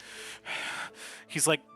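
A voice imitates the heavy breathing of a cat meme, with three loud, drawn-out huffing breaths and then a sharp gasping snort, close and alone.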